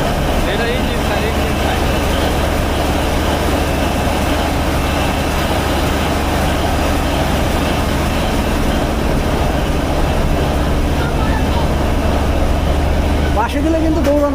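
The engine-room side of a passenger launch ferry between Dhaka and Patuakhali holds a loud, steady, deep engine drone and mechanical rumble that runs unbroken throughout, with people talking nearby over it.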